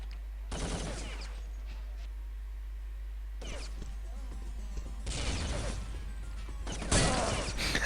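Gunfire from the online shooter game Urban Zone in a league match, several separate bursts of sharp, crackling shots spread out between quiet stretches.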